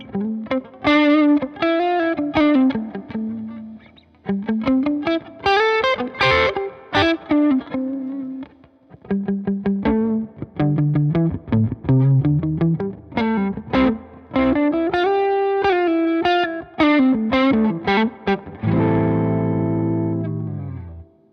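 Electric guitar through a Cornerstone Antique V3 overdrive pedal with the presence knob raised, playing a distorted riff of chords and single notes with bright top end, ending on a sustained ringing chord, loud and alone.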